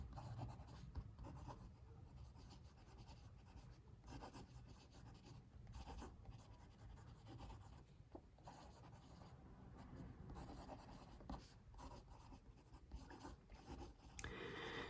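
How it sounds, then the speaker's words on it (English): A Sailor Tuzu Adjust fountain pen with black ink writes on paper, a faint, close, continuous scratchy rustle of nib strokes with small pauses between words, alone for about fifteen seconds. "Let's do some writing."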